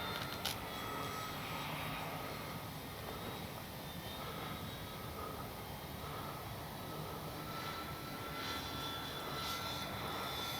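A FlightLine P-38 1600mm twin-engine RC model plane flies overhead, giving a steady, fairly faint droning buzz that swells slightly as it passes, heard on its own without speech.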